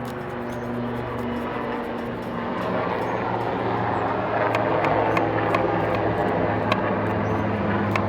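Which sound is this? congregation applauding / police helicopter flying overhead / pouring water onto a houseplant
police helicopter flying overhead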